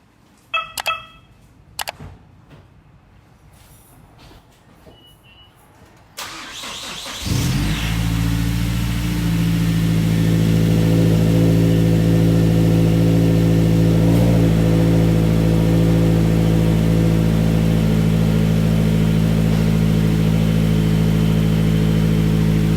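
A few faint clicks and clunks, then a widebody Mazdaspeed 3's engine cranks and catches, settling into a loud, steady idle that runs on alone.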